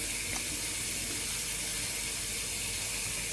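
Steady broadband rush of water pouring from a tap, continuous and close, with no pauses or voices.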